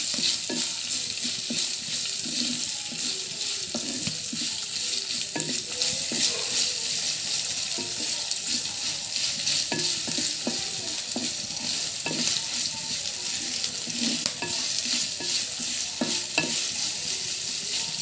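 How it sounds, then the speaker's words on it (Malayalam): Onion, green chili, ginger and garlic fry in a pan with a continuous close sizzle, broken by repeated scraping and stirring strokes at an uneven rhythm throughout. "നമ്മുടെ സവോള, പച്ചമുളക്, ഇഞ്ചി, വെളുത്തുള്ളി എന്നിവ നമുക്ക് ഇതിലേക്ക് ചേർക്കാം"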